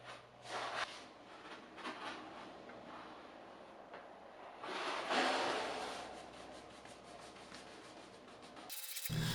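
Cloth rubs and buffs wax into a whitewashed wooden dining table in soft, uneven strokes, quiet and close, with louder swishing passes now and then.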